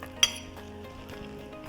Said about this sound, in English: We're gonna cut a piece.